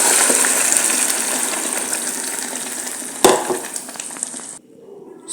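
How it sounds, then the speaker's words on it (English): A loud sizzling hiss as gizzard kebab ingredients hit hot frying oil, steady and close, with a sharp clatter partway through before the sizzle drops away abruptly. "So now my oil is hot. I'm going to pour my stuff in."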